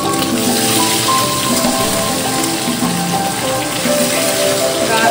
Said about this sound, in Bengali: আমি হচ্ছে ডিমগুলোকে একটু হালকা করে মানে ভেজে নেবো